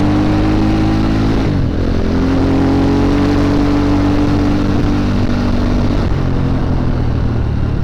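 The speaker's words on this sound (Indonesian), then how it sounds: "sebelum itu kita coba geber dulu lah untuk jalannya, ada jalan bagus" A Viar Cross X 250 ES, a 250 cc motorcycle, revs hard and then rides off, its loud engine drone close and continuous with a shift in pitch partway through.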